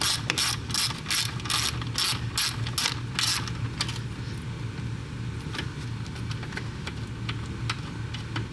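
A ratchet with an extension and deep-well socket turning 10 mm starter bolts on a 1999-2004 Volkswagen Jetta, Golf or Beetle, a fast run of loud close clicks fading to slower, fainter ticks over a steady background hum.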